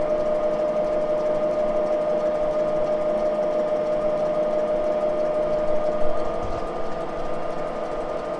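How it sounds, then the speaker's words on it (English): A vintage Moore jig boring machine bores Harley Davidson engine crankcases, giving a steady, close, humming mechanical drone with a constant whine, and a slight rise in rumble near the end as the slide extends. "Now the machine's just starting to almost shake a little bit as I get to the end here as that slide extends."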